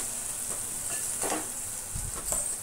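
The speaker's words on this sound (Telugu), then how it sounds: "చూసారా వంకాయలు ఎలా మగ్గిపోయాయో, చాలా బాగా ఫ్రై అయ్యాయి." Brinjal masala curry fries in a pan with a steady close sizzle and a few soft stirring scrapes. No one speaks.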